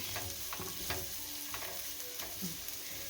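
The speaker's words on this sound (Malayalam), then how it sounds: "ഇവരെ നമുക്കെല്ലാം ഒന്ന് മിക്സ് ചെയ്ത് വെക്കാം" Spices tossed and mixed in a frying pan for Kerala mezhukkupuratti, a steady sizzle broken by scraping stirs and a few soft knocks of a spatula, close and moderately quiet.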